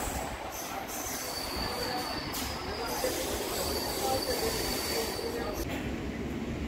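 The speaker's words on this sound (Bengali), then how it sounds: "সামান্য একটু সময় দাঁড়িয়েই ট্রেন ছেড়ে দিল" A Howrah–Haldia galloping local train pulls out of a station, its wheels and carriages giving a steady, close rumble with a faint high squeal running through it and no clear voices on top.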